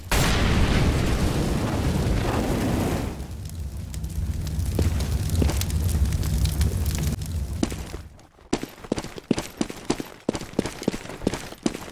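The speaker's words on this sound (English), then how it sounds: "Throwing fire. Grenade! Incendiary out." In Counter-Strike, an incendiary grenade bursts into a loud, roaring rush of fire that fills the first seconds, then settles into a steady burning crackle before cutting to a series of sharp, evenly spaced clicks and pops.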